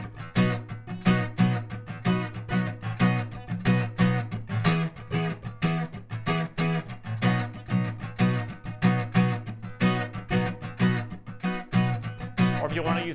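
Strummed acoustic-style guitar chords, a brisk, evenly pulsing rhythm of bright strokes with muted chops, played steadily and close up with no talking.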